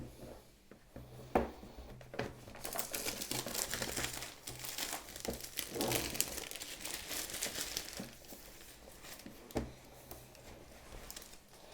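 Packaging from an AmpliFi Instant mesh WiFi system by Ubiquiti Networks being unboxed: close crinkling and rustling of paper and plastic, with a few sharper taps, louder in the middle and quieter at the ends.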